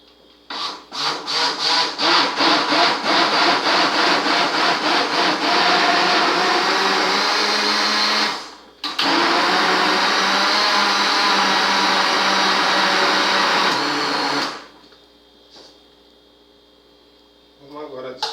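Electric mixer beating cake batter, a loud steady whir that runs continuously for several seconds, cuts out briefly, resumes, then stops near the end.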